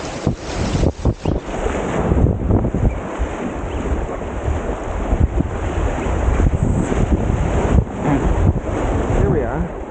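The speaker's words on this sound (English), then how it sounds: "this water is really blasting through here" Fast river water rushes loudly through a green corridor on the Metolius River, heard from a packraft, with steady churning broken by gusts of wind buffeting the microphone.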